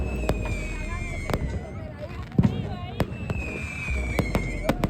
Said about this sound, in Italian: A San Juan il rumore dei petardi e gli spettacoli pirotecnici sono una presenza costante per tutta la notte